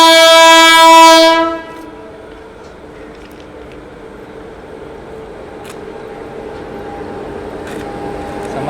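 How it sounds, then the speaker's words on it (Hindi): The Shramjeevi Express arrives behind a WAP7 electric locomotive, opening with a loud, sustained multi-tone horn blast that cuts off after about a second and a half, followed by a quieter steady rumble of the approaching train with faint clicks. "लोकोमोटिव के साथ ये आ गई अपनी श्रमजीवी एक्सप्रेस।"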